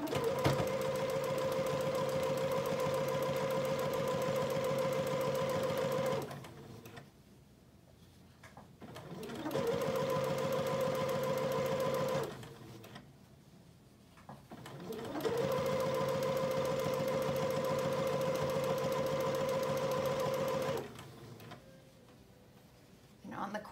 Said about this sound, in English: you're gonna be sewing on this first crease line